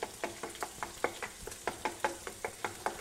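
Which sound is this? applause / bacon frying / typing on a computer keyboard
bacon frying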